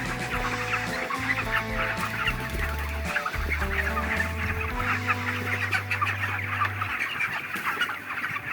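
Broiler chickens on a poultry farm cluck steadily in a dense, continuous chorus of many birds throughout, with no talking.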